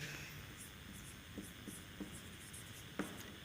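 Chalk or marker strokes during a physics lesson on electric field intensity from a point charge, with a few short scratchy taps spaced about a second apart, faint against a quiet room hum and no talking.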